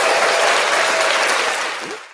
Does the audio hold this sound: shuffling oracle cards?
no